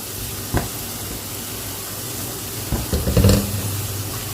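Gulab jamun fry in very hot ghee with a steady, close sizzle and hiss, with a few brief bubbling surges and stirring clatters near the end and no talking.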